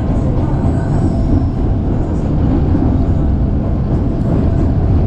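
A commuter train rolls through a sharp curve near Cilebut, a loud, close and continuous rumble of wheels on rails with faint squealing, no voices.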